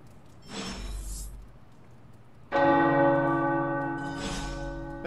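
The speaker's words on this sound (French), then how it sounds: "Les cloches." Church bells ring out in the Midnight Suns video game, a loud sustained peal of tolling bells that swells and lingers with a ringing, harmonic decay, with no talking over it.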